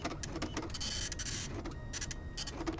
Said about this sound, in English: Get the printing out of the way because this is by far the loudest.